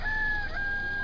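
A rooster crows at a backyard chicken area, a single drawn-out crow heard faintly at a distance with no talk over it.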